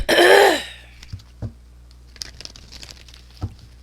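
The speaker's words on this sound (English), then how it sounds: "Let me open up a cough drop." Loud crinkling of a cough drop wrapper being opened, then a few quieter rustles and soft taps in a near, quiet room.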